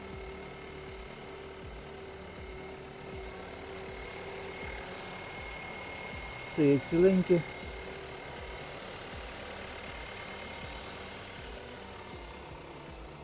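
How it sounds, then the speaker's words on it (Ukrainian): A warmed-up Volkswagen Arteon R-Line engine idles under an open hood with a low, even hum that runs throughout, broken once midway by a short spoken remark. "Двигун працює рівненько, чітко, саме прогрівся"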